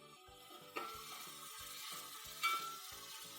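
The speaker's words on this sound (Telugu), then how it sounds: "టమాటా కొంచెం వేగనిద్దాం. టమాటా వేగిపోయిందండి." Tomatoes sizzle and fry in a pan after ginger, a soft, continuous hiss with a couple of louder stirring scrapes, close by and without talk.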